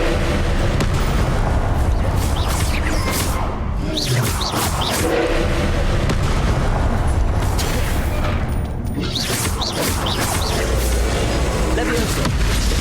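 Confringo spell blasts in Hogwarts Legacy on Nintendo Switch, heard as a dense, continuous stream of booming combat effects at steady loudness throughout, layered with voices.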